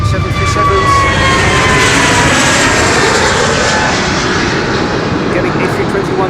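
An Airbus A321neo jet takes off from Schiphol's Polderbaan runway 36L, its loud, close engine roar and whining turbine tones filling the air steadily throughout.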